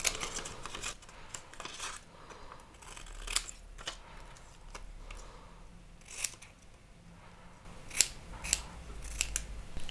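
Scissors cut through a paper peyote bead pattern in sporadic close snips and crunchy slices, fairly quiet, with no voices.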